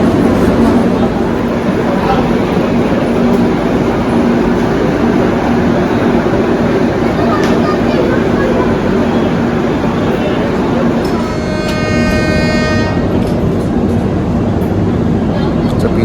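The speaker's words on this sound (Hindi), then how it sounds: "पीछे की हॉर्न, मुझे लगा अपनी हॉर्न है" Trailing train's horn sounding behind the Duronto Express near Tatanagar Junction, a loud tonal blast rising briefly late in the clip over constant rumbling rail and carriage noise.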